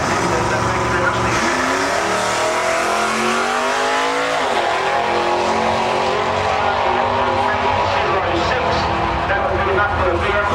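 Drag racing cars run down the strip at full throttle, a loud, sustained engine roar with sharp gear-change pitch drops and rising whine, a commentator talking over the noise throughout.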